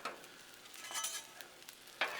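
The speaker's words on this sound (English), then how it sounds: "let's just kind of get this rice moved around over here because this griddle is hot over here" Rice scraped and stirred across a hot griddle with a steady, quiet sizzle, marked by a few soft scraping strokes and one sharper scrape near the end.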